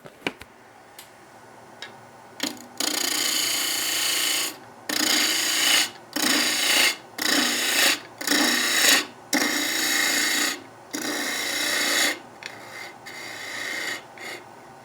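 A gouge cutting end-grain wood spinning on a lathe: loud, rasping scrapes that come in about eight regular bursts of roughly a second each, with short gaps between them and no talking.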